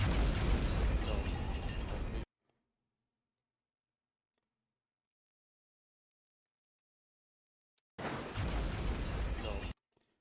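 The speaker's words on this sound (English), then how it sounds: "I think I have a explosion sound on my soundboard." A soundboard explosion effect plays as a loud, dense roar for about two seconds, then silence, and a second equally loud burst follows later, both cut off abruptly.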